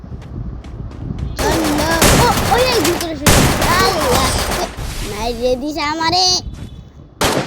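Rapid gunfire from a gun in the Free Fire mobile game crackles in dense bursts, loud and close, while a young voice talks excitedly over the shooting.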